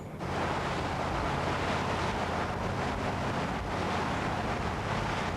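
A boat churns across open ocean off San Diego, with a steady broadband rush of engine, wind and spray at close range and no voices.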